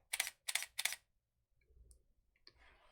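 A camera shutter, apparently a Fujifilm X-T30, fires a three-shot exposure bracketing burst on continuous low: three crisp, evenly spaced clicks close up, followed by quieter handling noises.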